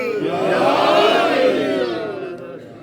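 A large crowd at a religious Jashan celebration for Imam Hasan Askari roars a slogan in unison, one loud, swelling collective shout that peaks and then fades over a few seconds.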